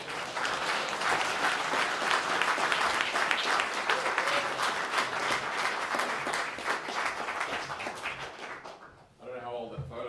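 Sustained applause from a conference audience at a live-streamed community event, dense steady clapping filling the room for several seconds before fading out, with a voice speaking over the end.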